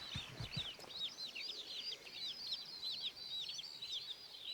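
Chickens in the Farming Simulator 22 video game cluck and chirp continuously in high, bright calls, steady and close, with a couple of low knocks at the start and no talk.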